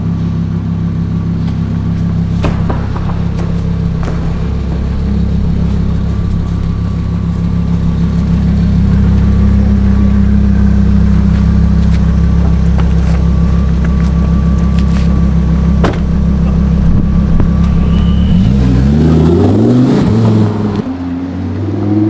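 A stolen Lamborghini's engine drones steadily and loudly before rising and pulling away near the end, with wind rushing over it.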